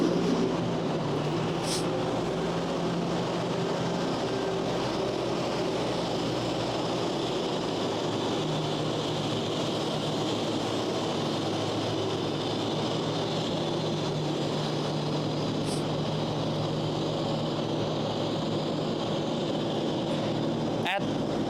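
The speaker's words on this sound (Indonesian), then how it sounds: "Itu mobil pembersih salju gitu." A snow-clearing vehicle rumbles past on a city street in Kaliningrad, a loud, continuous low roar of heavy machinery filling the scene, with a few sharp clanks over it.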